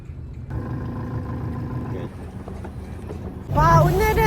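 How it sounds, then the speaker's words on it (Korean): Boat engine humming as the boat comes off a trailer and heads out of the harbor, a steady low drone with wind noise, then a louder surge near the end. "알레가 트레일러로 보트 내리는 것부터 시작해서 항구에서 배를 끌고 나오는 것까지 하고 있어요"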